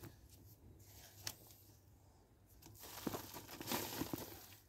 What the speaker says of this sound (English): First of all, we put some soil in the plastic bag